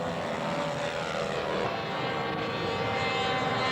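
A scale model B-17 bomber at a Las Vegas scale aircraft show passes overhead, its propeller engines giving a steady, fairly loud droning roar that holds for the whole stretch with no voices.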